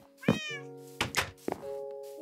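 A cat in a video game meows several times, short clear tonal cries with a soft thunk between them, close and isolated over a faint steady background tone.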